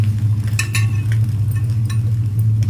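Butter sizzles in a pan with paneer and cashews, a steady frying hiss under a low hum, with a few light clinks of a utensil against the pan.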